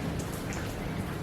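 Steady rain falls on carrot plants in a home garden, a dense continuous patter of drops with no speech.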